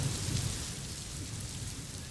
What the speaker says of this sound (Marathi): वादळी वाऱ्यासह मुसळधार पाऊस आता दिव्यामध्ये सुरू झालेला आहे।